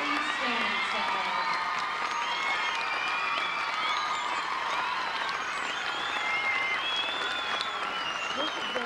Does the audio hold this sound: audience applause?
yes